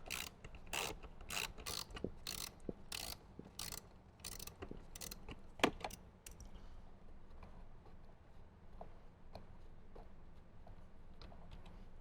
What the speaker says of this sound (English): use our socket wrench, get those removed